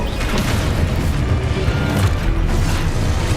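An Exposo explosion spell going off in Hogwarts Legacy, a dense, loud rumbling blast with crashing debris filling the whole stretch, with no talking.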